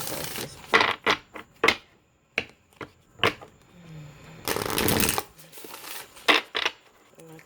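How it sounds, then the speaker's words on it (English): A deck of tarot cards is shuffled and cut by hand, giving short, crisp riffling bursts and soft slaps separated by pauses, close and clear, with one longer rustling shuffle midway. "I'm gonna cut the deck."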